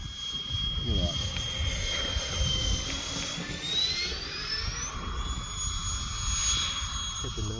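An FMS A-10 Thunderbolt II RC model jet flies slowly overhead, its steady ducted-fan whine rising and sweeping in pitch over a continuous rumble, with wind noise throughout.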